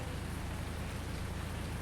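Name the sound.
rain falling in Farming Simulator 19 video game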